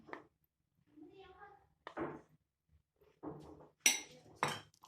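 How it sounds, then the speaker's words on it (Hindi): A spoon stirring maida flour into milk in a metal pan while making khajoor (date) halwa, sounding as scattered light clinks and scrapes, with someone speaking between them. "मैदे को दूध में शामिल करना है और मिक्स करते जाना है"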